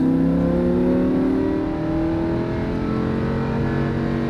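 A Lamborghini Huracan powers out of a race-track corner, its engine note climbing steadily in a loud, close, continuous howl with no pauses and no talk.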